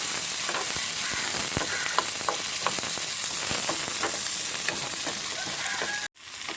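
Horse gram sizzles steadily in a hot pan as gooseberry is added and a utensil scrapes and taps while stirring, ending abruptly with a brief pause.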